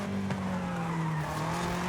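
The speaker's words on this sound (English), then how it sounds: "See how it's drifting? It's crazy." Tires skidding as a car drifts in the Forza Horizon racing game, a steady sustained squeal with engine drone running loud and continuous throughout.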